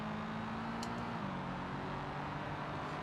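A Subaru Impreza-style car engine in the driving game BeamNG hums steadily at moderate volume, its tone dropping slightly partway through as it settles into a low, constant drone.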